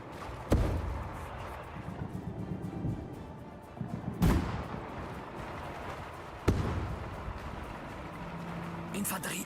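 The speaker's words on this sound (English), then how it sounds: "But our artillery is now opening up because they have ammo." Artillery fire in the Sudden Strike 5 strategy game: three heavy booms spaced a few seconds apart over a constant rumbling battle bed, with a voice talking throughout.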